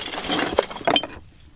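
Old thick glass Coca-Cola bottles clink together during a porch teardown and property cleanup, a few sharp close glassy knocks over about a second before trailing off into quiet.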